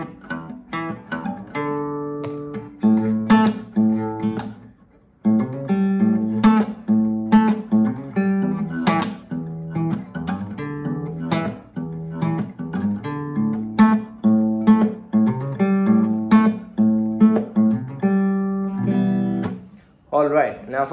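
Electric guitar playing the main riff of a song, a loud, rhythmic string of plucked notes and picked chords repeating steadily for about twenty seconds, with no talking over it.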